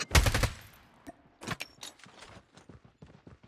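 Gunfire in a Call of Duty match during sniping, with a rapid close burst at the start followed by scattered fainter shots and distant pops.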